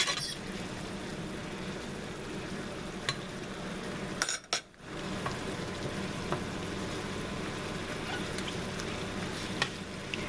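A pan sizzles steadily at medium-high heat while alcohol cooks off, with a couple of faint utensil clinks and a brief stir partway through.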